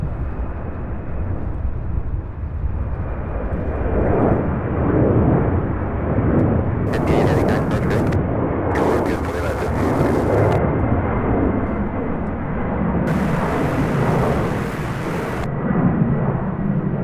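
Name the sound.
airplane departing from runway 35 left at SDF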